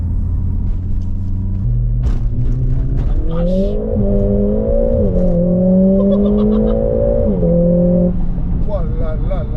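A Mercedes A45S AMG's engine drones low, then climbs in pitch as it revs and accelerates hard, holding a loud, close, rising note before easing off; a man exclaims briefly over it.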